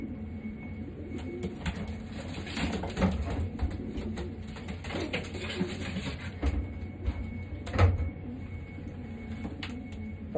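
Racing pigeons in a loft coo softly and flutter nearby, a steady low murmur of calls under faint background noise.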